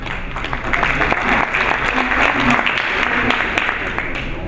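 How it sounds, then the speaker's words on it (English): Steady applause from a conference audience at a cybersecurity panel, many hands clapping together at a fairly loud, even level with a faint murmur of voices underneath throughout. "Big hand of applause, please, for Sinclair Coleman."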